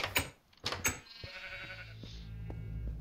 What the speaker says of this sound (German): Ja, die Schafe, oder?